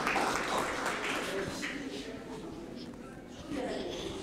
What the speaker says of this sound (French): Des applaudissements pour collègue